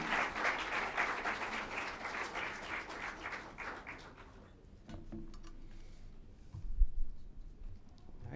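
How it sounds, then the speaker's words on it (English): At a Commonwealth Day celebration, an audience claps in applause for about four seconds, then the clapping dies away into quieter room noise with faint clinks and a brief thump. "I think they deserve another round of applause"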